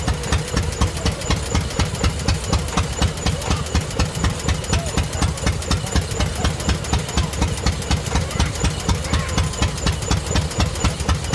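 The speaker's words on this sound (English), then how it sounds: "Here we have a skeletonized Lister D engine. Cut away so you can see all the internals working." A cutaway Lister D stationary engine runs at a steady idle at a steam rally, its rhythmic thudding beat continuous and close throughout, with no voices.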